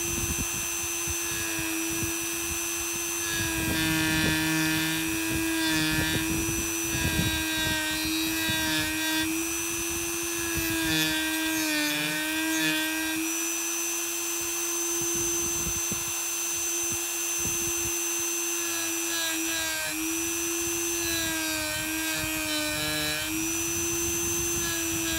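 A Dremel rotary tool carves a wooden Viking fire staff, giving a steady high-pitched whine that runs the whole time, with bursts of grinding as the bit bites into the wood.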